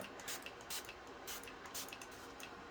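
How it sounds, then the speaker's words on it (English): Short hissing bursts from a spray over freshly done gel nails come in an uneven series of puffs at close range, faint and quiet. "Might as well spray these suckers too."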